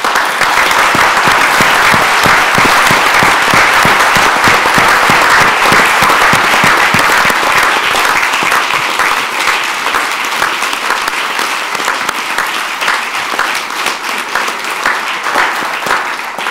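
Sustained, loud applause from a large audience honoring standing participants of the Nashville Movement at a nonviolence event, dense clapping throughout that eases slightly toward the end.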